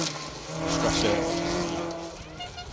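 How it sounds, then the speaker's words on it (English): A Porsche-sponsored red Ford Escort rally car passes on a forest stage of the Carlisle Stages Rally, engine rising loud then fading with a tonal whine, while a commentator talks over it. "Porsche sponsored Ford Escort."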